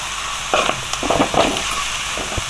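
Prawns frying in hot coconut oil in a pan, a steady crackling sizzle with sharper spits and stirring scrapes, close and fairly loud with no talk.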